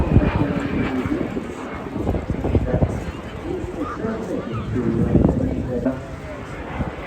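A historic aircraft flies over at the Eastbourne International Airshow 2025, its engine drone steady in the background beneath continuous commentary over a public address system.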